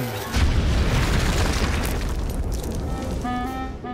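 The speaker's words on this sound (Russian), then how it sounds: "Ох, отличный взрыв." A deep, rumbling boom swells and rolls on for several seconds, slowly fading, with a faint tonal whine rising near the end.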